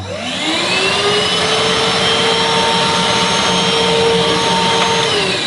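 STIHL SEA 20 battery handheld car vacuum cleaner spinning up and running steadily, a loud close whirring whine with a constant high tone, no speech.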